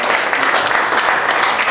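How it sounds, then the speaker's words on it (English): A comedy club audience applauds at the end of a stand-up set, with dense, steady clapping and crowd noise filling the room throughout, near and loud. "Clap it up for yourself."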